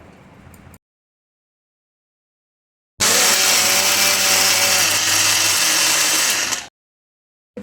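A mixer grinder blends cooked rice and water into batter, a loud, steady whirring roar running for several seconds before stopping abruptly, after a brief quieter stretch and silence.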